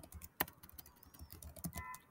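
Quick, quiet keystrokes on a computer keyboard entering a Linux terminal command, irregular light taps with one sharper key press.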